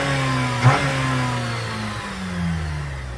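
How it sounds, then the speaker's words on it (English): A 2014 Jeep Compass engine revs up sharply once, its pitch rising and then sinking back toward idle, with a smaller second rise later, heard loud and close. "Let's give it a couple of revs, guys."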